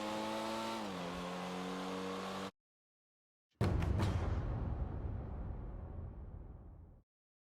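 A Pfister Astron SUV in GTA 5 hums with a steady engine tone that shifts pitch slightly, cuts to silence, then returns as a louder rushing roar of driving and tire noise that fades out.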